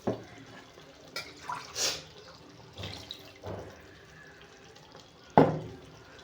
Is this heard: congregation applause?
no